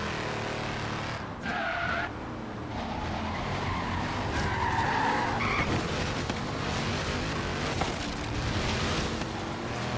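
A Chevrolet Chevelle muscle car skids in Forza Horizon 3, tires squealing in several drawn-out screeches over a steady engine roar, close and loud throughout.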